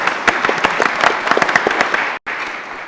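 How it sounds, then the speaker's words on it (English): A crowd at a city commission meeting claps steadily for a few seconds, a room full of scattered hand claps that cut off briefly near the end. "let us give you a round of applause for that"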